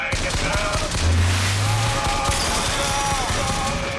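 Sniper fire in the video game BioShock Infinite, with sharp gunshot cracks crackling over busy game noise and some speech, loud and close throughout the short burst.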